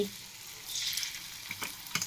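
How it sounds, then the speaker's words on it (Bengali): Food fries quietly in a pan with a soft, steady sizzle. A few light clinks and splashy bursts come toward the end. "এক এক করে ভাজবো,"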